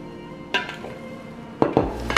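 Salad is tossed with dressing in a bowl, giving a few close clattering knocks and clinks of utensils against the dish over a quiet background, no voices.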